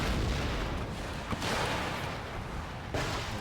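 Artillery cannons fire in a battle in Empire Total War (Darthmod), a dense rumble of booms with sharp bursts near 1.3 and 3.0 seconds over a constant battlefield roar.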